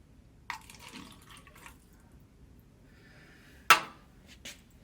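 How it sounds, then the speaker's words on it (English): Water poured into a calorimeter during a specific heat lab, producing brief splashy bursts and a trickle, then one sharp splash and a smaller drip, close and quiet. "I'm going to take a little bit of water and put that into the calorimeter."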